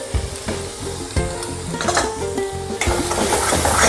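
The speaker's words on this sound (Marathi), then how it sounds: "आपल्याला पनीरच्या भाजीला आणखी थोडा भाजू देते मी" Paneer bhaji with chilli powder, turmeric and coriander powder frying in a pan, a loud steady sizzle with repeated rhythmic scrapes of a spoon stirring against the metal, close and continuous.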